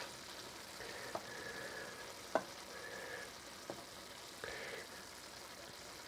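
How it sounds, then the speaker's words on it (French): Celeriac cubes simmer in a pan with meat juices and a little water, a steady soft sizzle and bubbling with occasional faint clicks of a utensil against the pan. "il y a assez d'eau là pour pouvoir faire cuire mes cubes de céleri rave"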